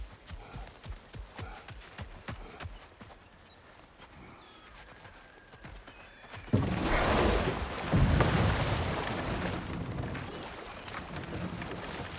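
A rushing waterfall in God of War Ragnarök swells in suddenly after a stretch of rhythmic footsteps, then continues as a loud, broad, steady roar for the rest of the clip.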